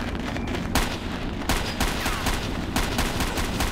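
Rapid bursts of gunfire from a retro shooting video game with a pilot-rescue mission, sharp shots repeating in quick clusters at a steady, loud level with no talking.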